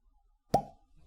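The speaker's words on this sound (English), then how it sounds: "Good cork pop." A cork pops from a bottle of Old Nick bourbon in one sharp, close plop with a short hollow ring afterward, followed by quiet.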